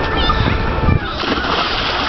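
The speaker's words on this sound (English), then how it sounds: "That was a little bit of a belly flopper, wasn't it?" A child belly-flops into pool water with one brief, sharp splash, followed by sloshing, while voices carry on in the background.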